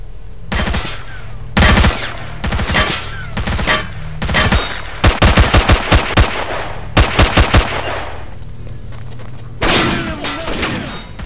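Gunfire in STALKER Shadow of Chernobyl: loud close bursts of rapid shots in quick clusters, separated by short pauses, with a few single shots and no talking.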